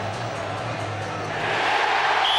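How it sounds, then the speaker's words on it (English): Stadium crowd at a 2004 Hull versus Leeds rugby league match, a dense broadband roar that swells louder midway as the try is shown, with no speech over it. "listen to this crowd when it pops up onto the big screen"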